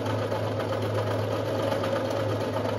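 Sewing machine running steadily while gathering fabric for a shower cap, giving a continuous mechanical whir and hum with a fast, even stitching rhythm, close and unbroken, with no talk.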